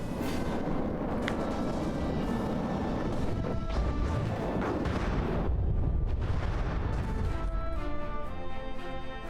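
Heavy missile impacts pound a battleship, the Yamato, in the naval combat game From the Depths, a continuous loud roar of blasts, crashes and rumbling explosions with no pause.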